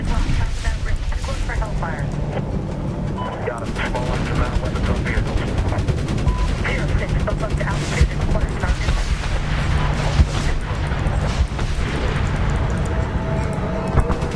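Continuous loud gunfire in the war video game Medal of Honor, dense rapid shots and bursts layered over rumbling battle noise throughout, with players' voices talking over the action.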